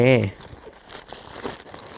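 Paper stuffing is pulled from a budget camera bag with close, rustling crinkles and light tearing-like crackles, heard after a man's brief speech at the start.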